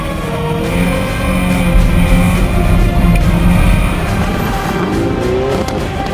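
A Subaru Impreza STI R4 rally car at speed on a stage of the Rajd Świdnicki 2013, its engine a loud, continuous roar with shifting pitch and gravel-like rumble, close by throughout.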